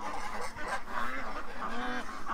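A flock of ducks honks and quacks steadily at close range, sounding like geese, as they are herded in at night; no one speaks.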